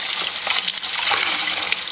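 Lukewarm water with a little liquid dish soap runs steadily into a yarn dye bath, making a continuous bright hiss and gush with no pauses or voices.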